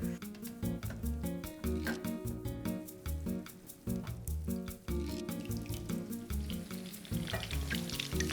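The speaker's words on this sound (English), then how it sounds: "I'm just going to saute these and just keep turning them so they brown evenly on all sides." Meatballs frying in a quarter inch of half olive, half vegetable oil crackle and sizzle steadily and loudly throughout, with a rhythmic musical backing underneath.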